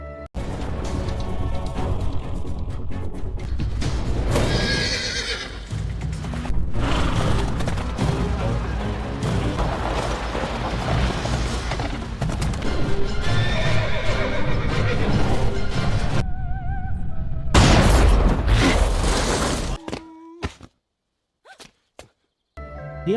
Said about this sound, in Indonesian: Jasi melarikan diri dengan menunggang kuda